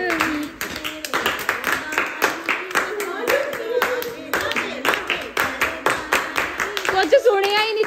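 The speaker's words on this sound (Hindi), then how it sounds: "ताली दी आवाज आई जा रही है।" Family members at a home birthday celebration clap in quick, uneven bursts throughout, close and fairly loud, mixed with overlapping talk and laughter.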